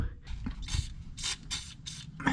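Lubricant is sprayed onto the control arm parts of a 1963 Loadstar truck in several short, hissing bursts, close up and separated by brief pauses.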